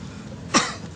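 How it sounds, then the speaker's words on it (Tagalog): A single close cough bursts out midway, followed by a short tail and another catch at the end, with no talking during it. "Ubo."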